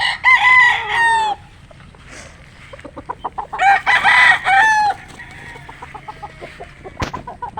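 Possum bloodline gamefowl rooster crowing loudly and close, two long crows at the start and again midway, with softer clucks and scattered bird calls between them and a sharp knock near the end.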